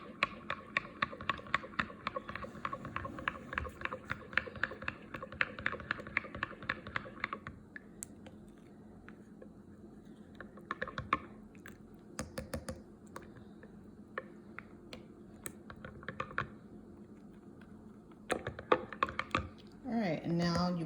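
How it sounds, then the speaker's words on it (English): A spoon stirs keto hot chocolate with cinnamon, scraping and clinking against the mug in quick, steady repetitions up close, then slowing into scattered taps and knocks. "And give that a nice hefty stir."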